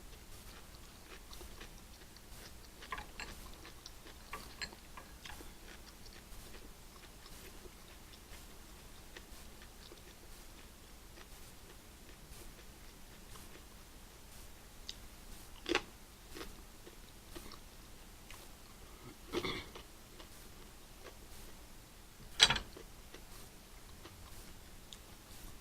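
Quiet chewing of a lobster roll with spicy jalapeno butter sauce, soft irregular crunches and bites close to the microphone, with a few sharper clicks standing out, no talking.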